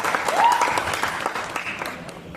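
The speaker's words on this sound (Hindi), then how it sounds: "मैं चाहूंगा एक जोरदार ताली हो जाए." Crowd claps for a guest at a Bhojpuri stage event, dense applause peaking early and then gradually fading, with no speech over it.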